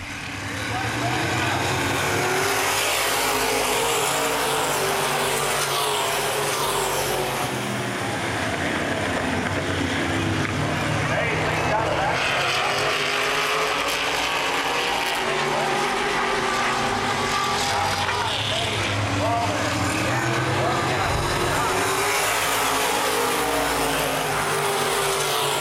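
Open wheel modified race cars roaring around the Baer Field Speedway oval on a restart to green, engines droning and swelling steadily as the pack passes, with an announcer talking over the noise.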